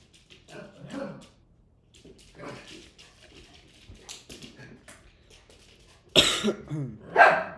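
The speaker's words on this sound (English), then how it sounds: "this dog is insane" A dog named Milo barks in a room in a few loud, sharp bursts near the end, after quieter muffled sounds and intermittent low human noises.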